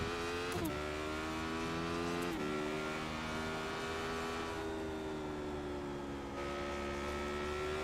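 Race car engine in a racing video game set at Road America, a steady high-pitched tonal whine that shifts up and down with gear changes and throttle, moderately loud and uninterrupted with no talk.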